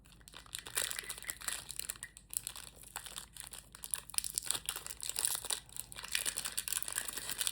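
Crinkling plastic wrapper of a Dubai chocolate bar being torn open, a steady close-up rustle and crunch lasting several seconds without talk.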